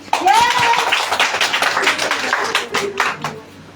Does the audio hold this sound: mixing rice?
no